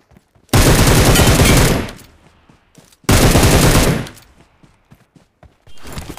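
M762 rifle with a 6x scope firing in the BGMI video game, two loud bursts of rapid automatic fire, each about a second long, separated by a short pause, with faint clicks and thuds between.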